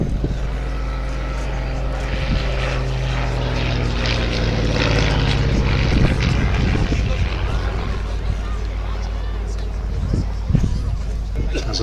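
A Ryan Navion propeller light aircraft at the Little Gransden air show drones steadily close by, its engine note shifting in pitch as it passes, with someone talking over the sound throughout.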